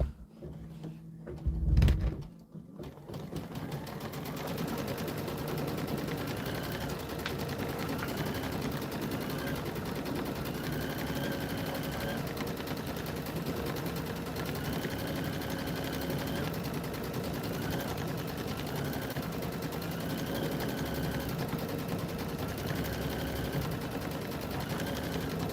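A Brother embroidery machine stitches a built-in quilting design with a fast, steady mechanical chatter that runs evenly for over twenty seconds, after a brief burst of handling noise at the start.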